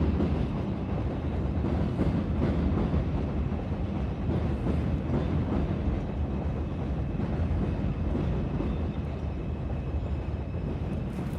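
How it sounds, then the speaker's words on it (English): A long train rolling past in New York City late at night, a steady dense rumble and clatter holding at the same close, loud level throughout with no break. "So this is the train,"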